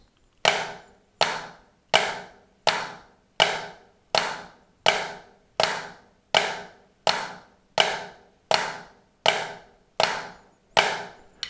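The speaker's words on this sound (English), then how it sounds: "today we're doing the flam," Evenly spaced sharp drum hits, each a flam rudiment: a quick double stroke with a grace note just ahead of the main accent, repeating steadily about every three-quarters of a second.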